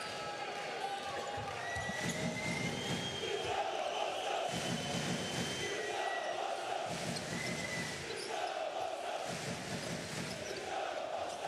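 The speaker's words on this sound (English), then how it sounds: "So loud rhymes with crowd, and that's what we've got here in Tuzla." Loud, continuous crowd roar fills a basketball arena in Tuzla during a Bosnia and Herzegovina versus Montenegro World Cup qualifier, with a steady din, rising swells and shouting throughout.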